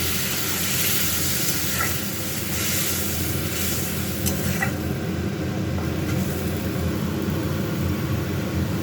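Spiced masala frying in a pan with a little water and sugar added, giving a steady, close sizzle that holds at an even level throughout with no talking.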